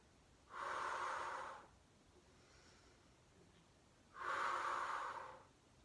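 Two strong breaths, each about a second long with a pause between, taken during a Pilates swimming exercise while lying stretched out; the breathing is close, airy and clear, with no talking.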